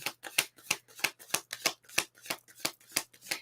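Tarot cards are shuffled in a quick, even rhythm, a steady run of crisp riffling flicks close to the listener, with no talking.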